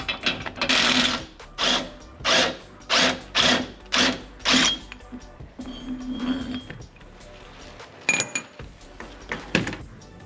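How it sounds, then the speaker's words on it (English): A wrench loosens the torsion bar bolts on a Land Cruiser, making eight rhythmic, close ratcheting bursts, then softer metallic clinks and clanks of tools and parts. "Use my breaker bar here and here"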